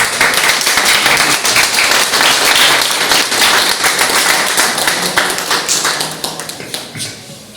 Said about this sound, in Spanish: Démosle un aplauso al señor presidente de la Academia de Historia